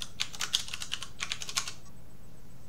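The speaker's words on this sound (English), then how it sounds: "typing with a microphone in front of you is hard" Quick keystrokes on a computer keyboard entering a password, a close, crisp burst of rapid clicks for under two seconds, then silence.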